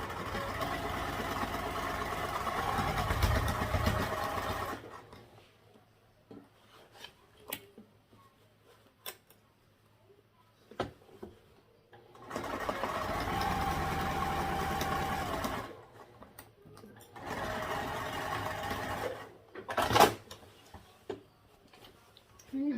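A sewing machine stitches a half-inch seam on a garment with lining pieces, running in several bursts of steady mechanical whirring of a few seconds each, separated by quieter pauses with small handling clicks.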